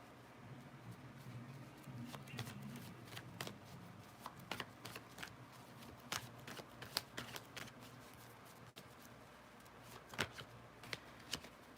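Tarot cards being shuffled by hand, a run of soft riffling flicks and papery taps in an uneven rhythm, close and quiet with no voices.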